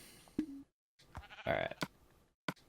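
Sheep in Minecraft on PS Vita bleat several times: a short, clipped call, then a longer, louder one, and a final brief bleat, separated by quiet gaps.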